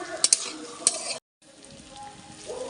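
Marinated chicken with chopped capsicum fries in a pan with a close, steady sizzle and a few sharp pops, cutting out for a moment before the crackle resumes more quietly.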